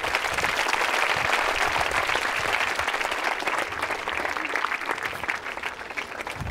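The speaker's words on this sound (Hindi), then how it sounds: "इनके लिए तालियां बजाइए आप" An audience at a college quiz show held at a government women's engineering college in Ajmer claps in a dense, steady round of applause that stays loud throughout, with no voices over it.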